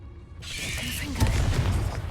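A Confringo blasting spell in the Hogwarts Legacy video game fires with a rising whoosh that swells into a loud, low boom, ending in a rumbling impact.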